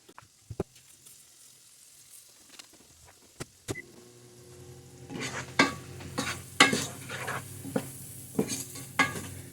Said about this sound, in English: So we'll let those sweat down a little bit